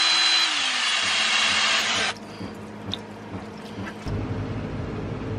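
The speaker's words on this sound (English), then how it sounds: "So we've got to drill the holes in these fellas." A power drill bores holes into rubber pieces on a sailboat, a steady whining burst for about two seconds, followed by quieter handling clatter and a low hum; fairly close and not loud.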